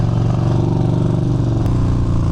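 A 2020 Yamaha Bolt motorcycle being ridden, its engine a steady, close, loud low rumble with a throbbing pulse throughout and no voices.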